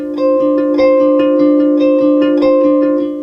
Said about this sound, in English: It's Guitar Electric Loop.